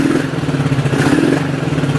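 A Kawasaki KZ400 motorcycle engine idles roughly while low on fuel, a close, steady mid-pitched putter with uneven, wavering pulses and a slight surge partway through.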